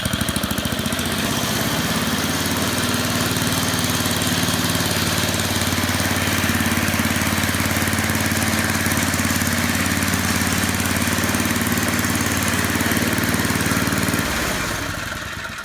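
A snowblower's small engine runs steadily at close range after its bad fuel was cleaned out, a loud continuous rattling drone that cuts off near the end.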